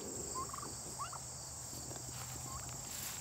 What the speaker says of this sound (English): There's our turkeys.